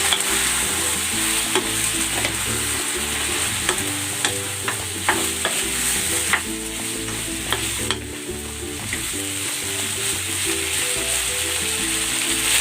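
Pork ribs go back into a hot pan with sauce and fry with a loud, steady sizzle while a utensil stirs and scrapes them. Soft music plays underneath.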